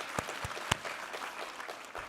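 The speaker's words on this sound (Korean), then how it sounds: "우리 하나님께 감사와 영광의 박수 올려드리겠습니다" A brief burst of congregational applause in church during a Sunday sermon, a few sharp claps standing out over a soft, scattered patter, fairly quiet and roomy.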